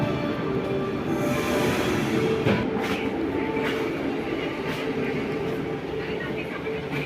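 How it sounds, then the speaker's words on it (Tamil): A DEMU passenger train runs with a steady, loud rumble of wheels on rails from inside or close by, with faint clicks and a few brief metallic squeals over continuous noise. "யூஸ்வலான ஒரு டெமோ ட்ரெயினுங்க"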